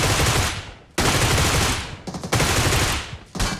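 Bursts of automatic fire from an MK rifle without a cheek rest in a video game, loud and close, with three long sustained volleys split by brief pauses and a short final burst.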